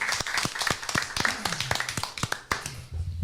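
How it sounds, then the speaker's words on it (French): Scattered hand clapping from a small studio audience on a French sports quiz show, individual claps distinct and uneven rather than a dense roar, fairly close, with a low voice murmuring near the end. "Est-ce qu'on peut applaudir?"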